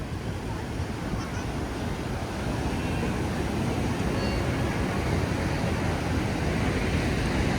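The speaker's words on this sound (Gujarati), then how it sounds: "તોફાની દરિયો છે આ." Rough, stormy sea surf rolls in as a continuous loud roar of breaking waves mixed with wind buffeting, steady throughout with no clear pauses.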